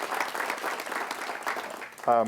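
An audience claps steadily at a technology policy forum for a moment, the applause fairly full and even throughout, then a voice begins speaking near the end.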